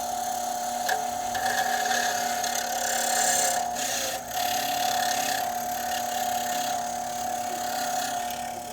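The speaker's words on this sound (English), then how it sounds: "we're gonna go ahead and use this little wire wheel here to clean it all off" A small wire wheel scrubs corrosion off BMW F30 Brembo M-Sport front brake parts, giving a steady whirring, rasping scrape with a sustained tonal whine, close and continuous with a brief dip partway.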